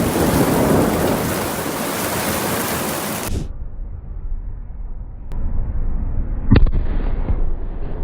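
A thunderstorm breaks over an outdoor soccer game: heavy rain hisses loudly, then cuts to a quieter rumbling stretch with a sharp crack partway through, all without speech.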